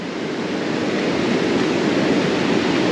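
Ocean waves roll onto the shore on a Dungeness crab fishing beach, a loud, continuous surf rush that swells slightly, and nobody talks over it.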